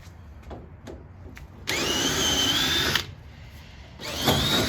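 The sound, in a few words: power drill running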